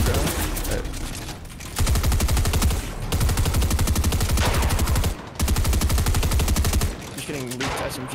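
Fortnite SMG gunfire rattles in rapid, sustained bursts, loud and close, with brief pauses between strings of shots and short breaks near the end.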